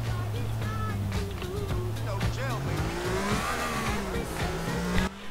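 A fast car in GTA IV drives along a highway with a steady engine drone that rises and shifts in pitch as it accelerates, with tire noise and faint speech mixed underneath.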